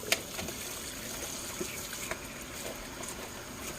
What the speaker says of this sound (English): So let's focus on getting these chops washed.